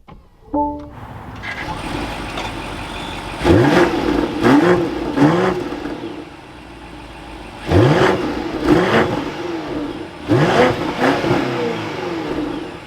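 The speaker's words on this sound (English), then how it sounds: "But let's fire this back up. That button is located down below, finished off in crystal, and we can bring this to life." A 2024 BMW X6 M60i V8 starts up with a brief starter whine and a loud catch, then settles to idle before three separate sharp revs that climb and fall back, heard up close with no talking.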